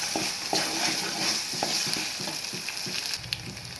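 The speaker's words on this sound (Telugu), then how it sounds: "అల్లం వెల్లుల్లి పేస్ట్ కూడా మగ్గిందండి" Ginger garlic paste sautés in a pan for a prawn curry, a steady sizzle broken by repeated scraping and stirring strokes at close range, with no talk.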